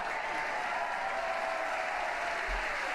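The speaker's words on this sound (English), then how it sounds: "I'm taking their cheering as good news." Crowd applauding and cheering steadily after the SpaceX Crew-3 launch, a continuous dense wash of clapping and voices throughout.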